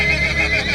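A horse neighs loudly and close in a sustained, wavering whinny, with hoof clip-clops only faintly suggested underneath.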